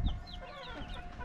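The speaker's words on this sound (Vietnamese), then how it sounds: "Còn có 3 con gà mái, một con gà trống" Three hens and a rooster cluck in a farmyard, a close cluster of short rising clucks and calls with no talk over them.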